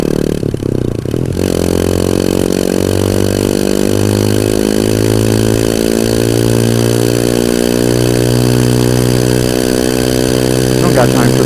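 A motorcycle engine idles and runs steadily close by, a loud continuous drone with a rising harmonic pitch, as if revving gently, heard throughout.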